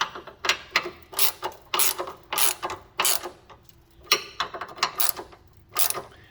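Ratchet wrench clicks in quick repeated bursts of strokes, tightening bump stop extension bolts on a 1999-2004 Jeep Grand Cherokee; close, crisp and rhythmic, with brief pauses between sets and no voices.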